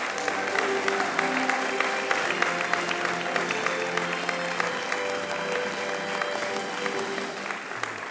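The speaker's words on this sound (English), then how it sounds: "With a round of applause, Professor Roger Hossain" An audience at a university research awards ceremony applauds a professor receiving an award, steady sustained clapping from a large room with soft background music underneath.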